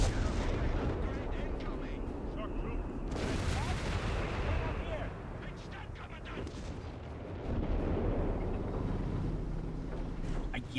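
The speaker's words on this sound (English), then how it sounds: "And of course another barrage out of his Vesper." A German Wespe self-propelled howitzer fires an artillery barrage in Company of Heroes 3, with booming shell impacts and rumbling blasts layered over continuous battlefield noise and commentator talk.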